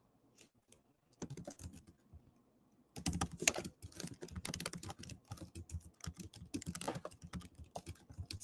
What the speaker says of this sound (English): I'm just going to type in the chat.